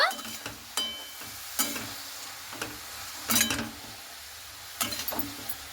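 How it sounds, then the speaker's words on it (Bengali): Cabbage fries in a pan with a soft, continuous sizzle, broken by several sharp scraping and clinking bursts as it is stirred with a utensil. "বাঁধাকপিটাকে দিয়ে খুব ভালো মতো করে নাড়াচাড়া করে নেব।"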